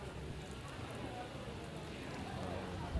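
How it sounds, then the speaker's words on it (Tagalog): Rain falling outside a roadside cafe during a motorcycle breakfast ride, a soft, steady hiss of drops on surfaces that continues evenly throughout at low volume. "Umuulan lang eh."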